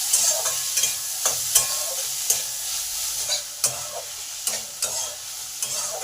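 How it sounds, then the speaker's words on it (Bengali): Boiled banana flower frying with chillies in a pan, a steady sizzle punctuated by regular scraping stirs and spatula taps, close up with no talking. "এবার মোচাটাকে একটু ভালো করে ভেজে নেব।"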